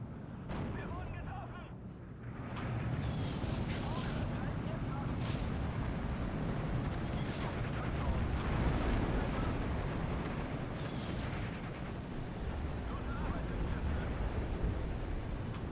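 Bombs and artillery shells striking targets in the Steel Division 2 wargame, a continuous loud rumble of impacts and blasts running the whole time, with a voice talking over it.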